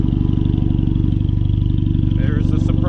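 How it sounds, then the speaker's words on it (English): A boosted R18 motorcycle with a side-exit exhaust idles loudly and close by, with a steady, lumpy pulsing throb throughout and a few brief higher scraping chirps near the end. "There's the surprise. Side exit exhaust."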